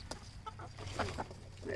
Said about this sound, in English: here's my chickens loving some fermented food